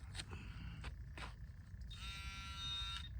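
Metal detecting pinpointer beeping near the coil while searching at an old stagecoach stop: a few short, quiet electronic chirps, then a longer steady tone, close and faint, with no talk.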